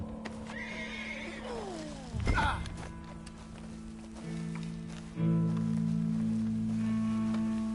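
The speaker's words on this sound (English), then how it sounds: "Horse." A horse in Red Dead Redemption 2 lets out a loud whinny, followed by hoof clip-clops and snorting, close and clear over a low ambient hum.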